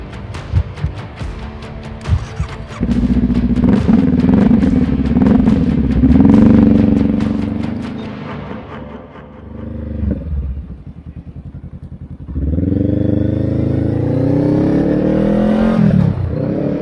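A Honda Rebel 500 motorcycle rides past on a university campus, its engine rising loud and close, fading briefly, then returning with a strong steady drone, with clattering and rushing noise early on.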